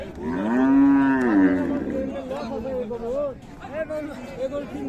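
Friesian cows moo loudly, one long low bellow followed by shorter calls, amid background chatter of a crowded cattle market at Raniganj, Dinajpur.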